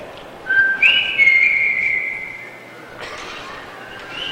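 A person whistles a single rising note that slides up and then holds as a long, steady tone, close and clear over faint room noise.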